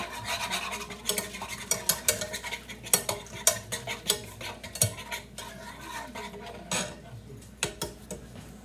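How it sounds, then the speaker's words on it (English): A utensil scrapes and clatters against a pan in quick, uneven strokes while food is stirred, rasping and metallic, close by and fairly quiet. "I hate to scrape on the pan like that. I know the noise is not fun"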